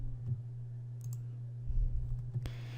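A mouse button clicks a few times, small dry taps close by, over a steady low electrical hum with no talking.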